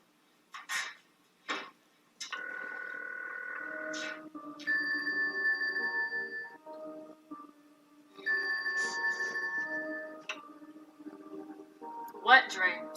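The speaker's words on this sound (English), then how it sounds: "Stop calling my phone." A telephone rings in a film scene, with repeated electronic bell-like trills in separate bursts and short gaps between them, clear and fairly loud, plus a few sharp clicks at the start and a voice near the end.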